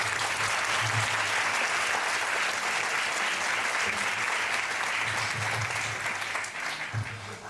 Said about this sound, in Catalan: Així que el primer aplaudiment.